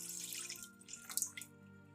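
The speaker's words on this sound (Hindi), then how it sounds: "2 कप मैं इसमें पानी शामिल करूँगी।" Two cups of water are poured into a cooking pan, giving a soft, steady splashing trickle with a few brighter drips, close and fairly quiet.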